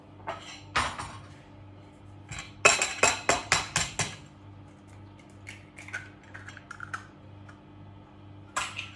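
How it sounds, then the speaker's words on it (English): An egg cracked into a bowl while baking mini egg cookies. A few soft taps come first, then a quick run of sharp, close clicks, followed by sparse lighter knocks against a faint steady hum. "we're going to crack our egg into the bowl"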